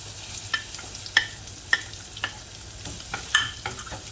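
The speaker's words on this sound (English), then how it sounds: "Fry the ginger first." Ginger and garlic frying in oil in a pan over medium heat, giving a steady, close sizzle broken by sharp clicks and scrapes from stirring.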